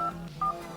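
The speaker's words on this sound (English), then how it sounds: "go back to the keypad, and just dial in star pound" Two short phone keypad DTMF tones, each a clean beep under half a second apart, sound over a low steady background hum.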